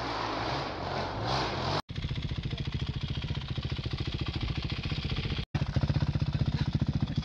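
A motorcycle carrying two riders, its engine throbbing in a fast, steady pulse at close range for several seconds, broken by two brief cuts.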